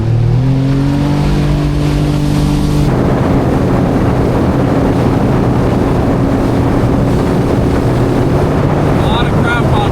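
Motorboat engine droning steadily at close range while cruising out on the Oregon coast ocean, with heavy wind buffeting the microphone throughout and no voices.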